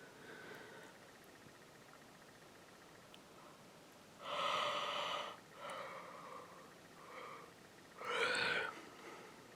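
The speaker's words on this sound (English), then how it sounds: "Man, that was a big yawn," One person gives a big, breathy yawn in drawn-out exhaled bursts, close and fairly loud, against a quiet indoor room.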